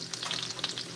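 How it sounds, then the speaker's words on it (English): Garlic and onions fry in a hot pan, sizzling close and loud with quick stirring scrapes over a constant crackle, no voices. "So now I have the garlic and the onions cooking"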